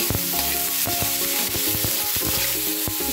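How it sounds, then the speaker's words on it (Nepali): Vegetables shallow frying in about four spoons of oil in a pan, a steady close sizzle with repeated sharp clinks and scrapes of a spoon stirring, no voices. "नाज़रीन 4 चम्मच ऑयल में हमने जो है सब्जी को डाल दिया है और अब हम उसको शैलो सा फ्राई कर लेंगे।"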